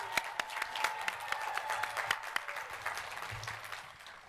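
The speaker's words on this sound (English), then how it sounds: "Please give a round of applause for Natalie Padilla." Steady applause from an audience at the Archway Academy Class of 2023 completion ceremony, welcoming the master of ceremonies, a dense patter of many hands at moderate distance that gradually thins out.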